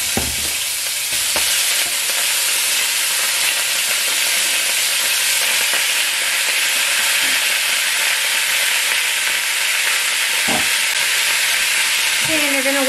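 Meat, garlic and onion sauté for pho in a hot pot, giving a loud, steady sizzle and hiss throughout, with a few light clinks of utensils.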